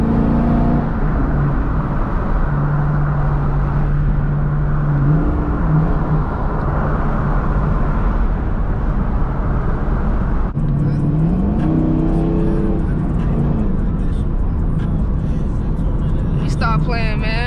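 A V8-swapped Ford Mustang engine runs loud and close throughout, its steady drone lifting into a rising rev partway through before settling back.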